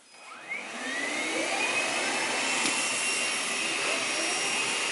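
Dyson V11 or Henry HVB160 cordless vacuum cleaner sucking up spilled Rice Krispies, a loud steady high-pitched whine that spins up quickly and holds, with rising rattly tones as debris is pulled in.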